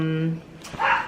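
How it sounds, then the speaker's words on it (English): A dog gives a couple of short barks and yips right after a brief stretch of someone talking; close and fairly loud. "If you can hear a dog barking, it's my dog"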